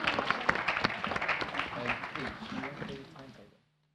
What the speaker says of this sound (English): And a round of applause for me for doing such a fantastic job of chairing it.